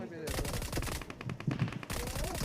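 Rapid bursts of automatic gunfire in a shooter video game, loud and close, take down a bot in quick rattling volleys with a short gap between them.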